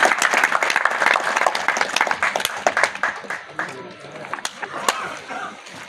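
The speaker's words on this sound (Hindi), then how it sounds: "मेरे संदीप सिंह के लिए तो तालियां होनी चाहिए" A crowd applauds with dense, steady clapping that gradually thins and tapers off, with a few louder claps near the end.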